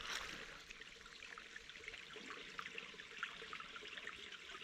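Water trickles and flows steadily through a freshly dug small canal in soil, a continuous close gurgling stream with no talking.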